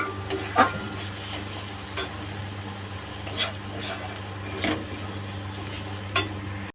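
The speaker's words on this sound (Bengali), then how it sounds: "এবার দেখো মশলাটা আমি কষিয়ে নিচ্ছি জিরের গুঁড়োটা দিয়ে" Spice paste with cumin powder being sautéed for ghugni, a soft steady sizzle broken by scraping stirs of a spatula in the pan, close and fairly quiet.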